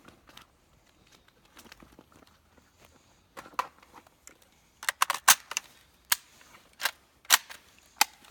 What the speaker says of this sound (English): Got to switch mags real quick.